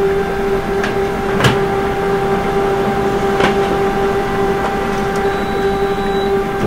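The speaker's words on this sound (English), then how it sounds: "Okay, you can hear now the sound of the printer." A Canon MF645SC printer prints with a steady mechanical hum and whir, punctuated by a few brief clicks and clunks, loud and close with no talking.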